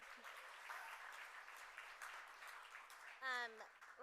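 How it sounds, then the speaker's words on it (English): An audience at a women's leadership summit gala applauds for an honoree, with broad, steady clapping that holds for several seconds before a voice briefly cuts in near the end. "how about one more round of applause for Richa Murjani?"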